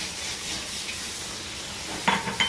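Tamarind water stirred into a simmering red radish curry, a soft steady sizzle with a couple of brief spoon scrapes against the pan near the end, no talk.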